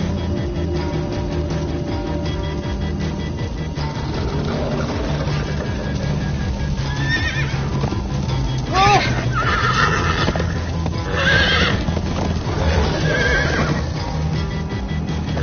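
Horses in a Minecraft story game neigh and whinny repeatedly over steady galloping hoofbeats, with music and voices running underneath.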